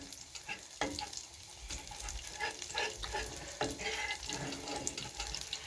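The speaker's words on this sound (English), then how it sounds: "I am just stirring everything through." Flour gravy cooking in a pan as it is stirred, a soft low sizzle with gentle scraping and spoon strokes, close but quiet, with no talking.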